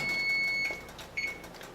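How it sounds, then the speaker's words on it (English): A kitchen timer beeps while a red lentil soup simmers, with a thin, shrill electronic tone sounding steadily and then again briefly, close and fairly loud, with no talk. "You can hear my timer is just gone off."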